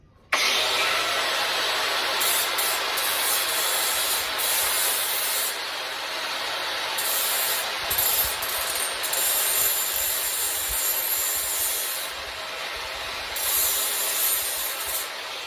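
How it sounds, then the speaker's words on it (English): An angle grinder fitted with a flap disc smooths and softens the edges of metal for a garden light stand, a steady loud abrasive hiss running continuously with brief dips and surges as the disc lifts and bears down. "Now I'm just going to come back with the grinder with the flap disc and soften the edges so that way I won't get any cuts."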